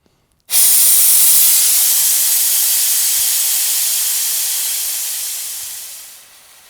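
Compressed air bursts from an opened leak in a system charged to 2 bar, a loud, close, steady hiss that starts abruptly and slowly fades as the pressure drains to nothing over about six seconds, with no talk.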